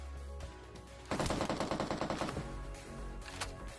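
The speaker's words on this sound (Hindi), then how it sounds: "अब यार मेरे को पीछे फायरिंग की साउंड आती है" Rapid automatic gunfire from behind the player in PUBG Mobile, a loud burst of closely spaced shots lasting over a second, then trailing off into scattered lower shots and ambient game noise.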